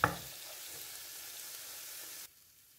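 Garlic, onion and tomato sautéing in a pan for a sardine dish, a steady close sizzle that begins with a brief clatter and drops suddenly quieter near the end.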